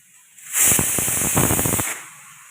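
A three-litre pressure cooker lets out one loud, sustained rush of hissing steam lasting over a second. The hiss rises sharply, holds with a rough, sputtering texture and then cuts off abruptly.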